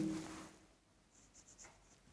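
A pen scratches on paper during a class 10 maths explanation of cube volume: a few faint, short strokes, quiet and close, with no talking over them.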